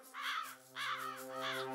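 Crows in a forest give three loud, harsh caws at a steady rhythm, heard over a faint sustained low tone with no talking.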